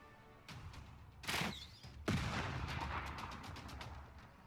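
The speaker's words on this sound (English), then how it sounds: "So we were bombarded by an encampment" An encampment bombardment in the strategy game Civilization VI: two or three sharp, booming impacts land in quick succession, each followed by a crackling, rumbling tail, moderately loud against a quiet game backdrop.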